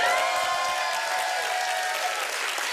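A lively audience at an ArtPrize juried awards event claps in sustained, dense applause. It is loud and steady throughout, with faint crowd noise underneath.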